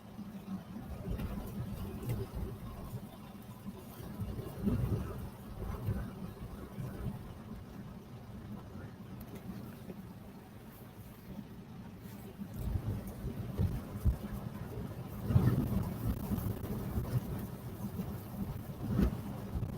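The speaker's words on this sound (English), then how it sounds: "we are still in the amber alert area, which is wind speeds up to around 60 miles an hour" Storm Eunice winds buffet the Port of Felixstowe under an amber alert, with gusts up to about 60 mph: a continuous low roaring rumble that swells in stronger gusts around the middle and near the end.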